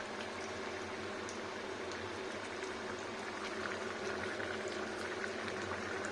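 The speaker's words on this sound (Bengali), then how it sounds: "এবার একটু ফুটে যাক স্লো টেম্পারেচারে।" A drumstick (sajna) vegetable curry simmers on low heat, with a steady, close bubbling and sizzling that continues unbroken and evenly loud throughout.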